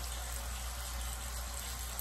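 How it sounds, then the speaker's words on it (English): Running water splashes steadily over a face during a cleanser rinse at home, a soft continuous patter and spray heard close and fairly quiet. "see how the water is beating on my face?"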